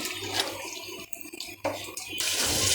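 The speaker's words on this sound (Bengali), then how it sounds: "এই যে দেখুন এখন আমি চাল আর মসুর ডাল একসঙ্গে ধোয়া দিয়ে দিব" Rice and red lentils being washed in water, with continuous splashing and sloshing close by, a brief lull midway before the swishing picks up again, no voices.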